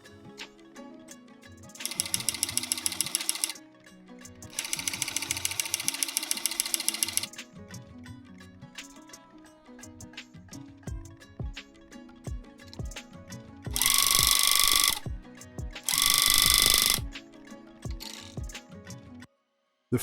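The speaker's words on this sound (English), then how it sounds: "I'm just going to turn the gun on so that I can try and show just how quiet it actually is" A Cozytuft tufting gun runs in short bursts, first two stretches of fast, buzzy mechanical chatter at a lower speed, then two louder, harsher bursts at high speed, with handling clicks in between and no speech.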